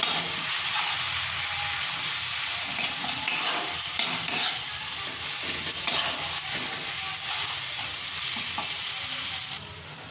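Spice paste with a little water sizzles and fries steadily in a pan for rohu fish kalia, with scraping stirs throughout and no voices.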